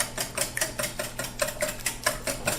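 Eggs being whisked in a bowl, a rapid, even rhythm of wire beating against the sides, close and fairly loud throughout with no talking.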